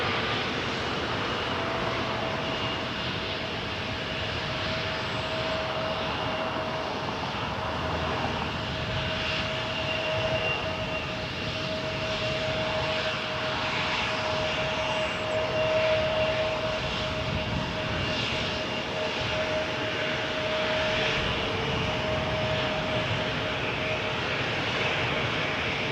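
A Porter airliner takes off from runway 23 at Toronto Pearson, its engines making a sustained, distant roar that holds steady, with a faint tonal whine running through it.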